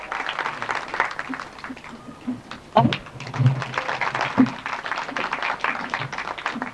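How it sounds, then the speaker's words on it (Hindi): Applause welcoming guests at a Hindu religious gathering of the Om Namah Shivaya Seva Samiti, uneven scattered clapping with a few sharper claps and bumps, fairly close, with some murmured talk beneath. "तालियों से स्वागत"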